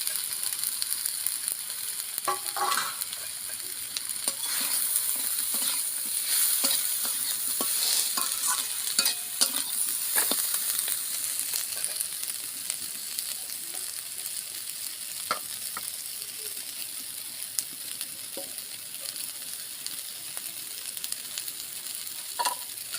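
Chopped green chillies and fried eggs stir-fried in a pan for Maggi noodles, with a steady low sizzle and scattered scraping and clinking spatula strokes, no talking.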